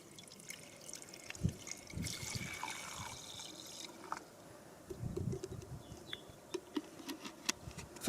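Water poured into a camping stove pot at a wild camp, filled near to the top: an intermittent, fairly quiet liquid pour and trickle with soft splashy bursts.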